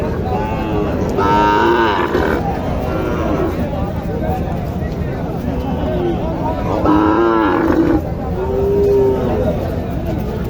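Cattle moo loudly in two or three drawn-out calls at a Joypurhat cattle market, over a busy crowd with people talking throughout.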